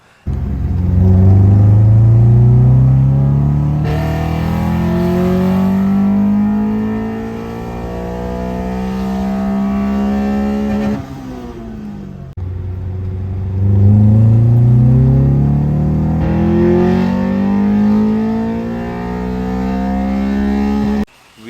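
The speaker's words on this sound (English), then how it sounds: "see if I can do some side-by-side in-gear pulls from the long ratio box to the short ratio box now" A Honda B20 VTEC car makes two long in-gear pulls, revving hard with a steady rising engine note. It cuts out briefly between the runs, and the sound is loud and close.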